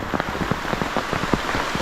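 Steady rain falls at a reservoir during a fish-shooting outing, with a dense close patter of drops striking the surface and no voices.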